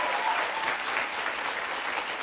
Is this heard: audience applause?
yes